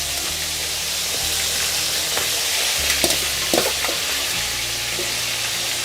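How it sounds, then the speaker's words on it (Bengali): Whole green peas and vegetables sizzling in a hot wok with oil, a steady frying hiss broken by a few scraping stirs of a spatula, close and fairly loud with no talking. "তারপরে কড়াইশুঁটি গোটা গোটা দিচ্ছি, সব ভেজে নিচ্ছি আমি।"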